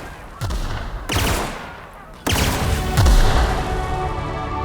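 Weapons fire in The Outer Worlds video game, with a grenade launcher in the mix: a series of loud, sharp blasts at roughly one-second intervals, each followed by a sustained rumble and debris-like noise, with combat ambience in between.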